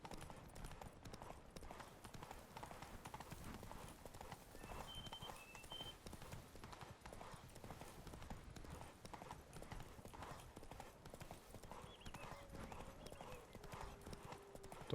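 Horse hooves clip-clop in a steady galloping rhythm, a mount in The Witcher 3 video game, running continuously at moderate level with a soft game soundscape and occasional voice underneath.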